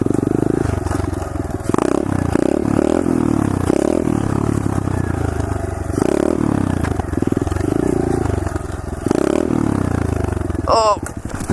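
A pit bike revs and drones through a stand-up wheelie on a golf course green, its engine note rising and falling in surges, with a person talking over it.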